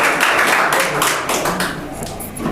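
Audience clapping at a motivational talk in a coaching-institute hall, a dense, steady patter of many hands that stays fairly loud throughout, with no one speaking over it.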